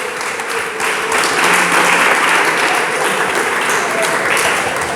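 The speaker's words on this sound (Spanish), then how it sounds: "Démosle palmas al Señor." A church congregation applauds together, a loud, dense wash of clapping that holds steady for about five seconds with a few voices mixed in.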